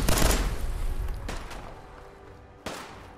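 Gunfire in the Fallout 4 video game arrives as a few heavy shots and bursts. It is loudest at the start and then comes as isolated cracks spaced across a few seconds, with a sharp final shot near the end.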